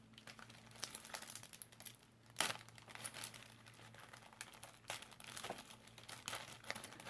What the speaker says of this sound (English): I tore the bag because she stapled it.